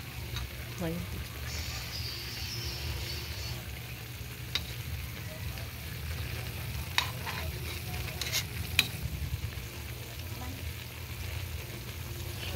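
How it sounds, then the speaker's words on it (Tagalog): A dish bubbles and sizzles steadily in a pot while it is stirred, with a continuous low simmering rush and occasional scraping clicks, moderately quiet throughout. "At kumukulo po siya."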